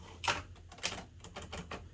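A ribbon cover is fitted back onto a 1958 Hermes 3000 manual typewriter, giving a short series of close, sharp plastic-and-metal clicks and knocks, with two louder snaps standing out among lighter taps.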